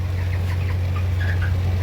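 Broiler chickens clucking and peeping in a brief close burst over a steady low mechanical hum, like a fan running in a poultry house.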